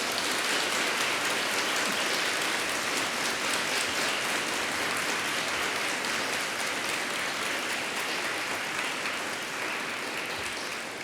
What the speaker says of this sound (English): give a round of applause to all those who helped you to get to this important point